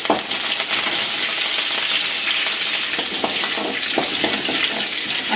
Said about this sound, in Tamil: வெந்தய நல்லா பொறிஞ்சு வந்ததுக்கப்புறம் கருவேப்பிலை வந்து